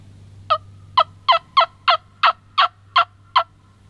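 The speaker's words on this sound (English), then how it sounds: "it is both gobblers. They both just gobbled." Wild turkey gobblers gobbling in thick privet cover, nine loud, close gobbles in a quick, steady series over a low background hum, with no talking.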